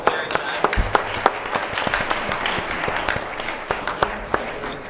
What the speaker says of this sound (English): We can give the County Executive a round of applause, please.